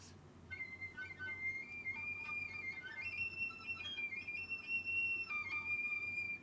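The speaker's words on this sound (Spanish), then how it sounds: "Los whistle tones, ¿sí? Esos silbidos." Thin, airy shakuhachi whistle tones glide and waver over a quiet, breathy background, with several sustained pitches shifting up and down.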